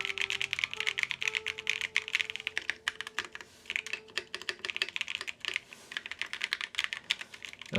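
Rapid, steady typing on a Sunset 80 mechanical keyboard with JWK Bluey switches, crisp close-up clacks in a continuous stream with occasional louder spacebar-like thuds and a faint background tone.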